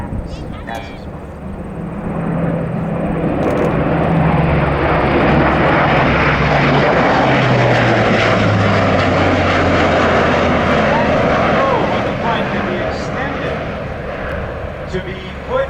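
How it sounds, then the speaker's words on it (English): A Luftwaffe Airbus A400M Atlas turboprop flies a demonstration at an air show, its loud droning engine roar swelling and then fading as it passes, with an announcer talking over it. "It's the A400M Atlas. That's its name."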